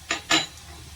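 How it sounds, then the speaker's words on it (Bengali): A spoon scrapes and clinks against a bowl while chili sauce and tomato sauce are mixed together for an Italian prawn dish: two short, close scraping strokes, then quiet. "এটা চিলি সসটা আর এটা টমেটো সসটা, এটাকে দিয়ে আমি একটা লিকুইড তিনটে একসাথে মিশিয়ে এটা একসাথে করে নেব।"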